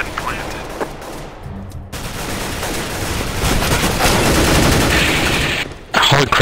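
Dense, rapid gunfire in Counter-Strike: Global Offensive on the Inferno map, loud and continuous bursts that swell in the middle and break off near the end, with a voice briefly audible.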